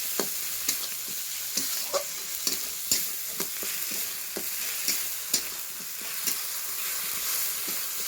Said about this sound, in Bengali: এবার দেব জিরা আর পেঁয়াজ বাটা। মশলাটাকে এবার ভালো করে কষিয়ে নিলাম।